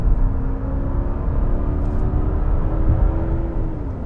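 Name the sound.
2020 Genesis G90 V8 sedan accelerating out of sharp turn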